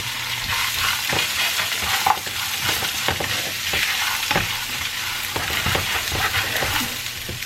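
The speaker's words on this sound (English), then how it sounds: "I'm going to saute my onions in there for a little bit" Onions sauté in a pan while being prepared for French toast, a continuous hiss of frying with frequent scraping and stirring clicks from a utensil, close and steady, with no talking.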